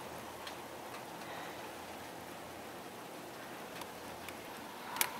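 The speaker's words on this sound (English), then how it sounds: "There's a few raindrops." Light rain patters steadily on an outdoor surface under dark clouds, a soft continuous hiss with a few distinct drops ticking nearby, one sharper tap near the end.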